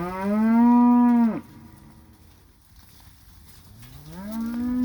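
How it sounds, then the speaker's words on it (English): Cows on a farm bawling for their calves during a fall cattle drive, two long loud moos separated by a quiet pause, close and clear with no talk. "Cows are bawling back for their babies, or their calves."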